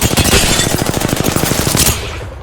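Rapid automatic gunfire from a competitive shooter video game rattles in a fast, loud, steady burst for about two seconds before stopping abruptly.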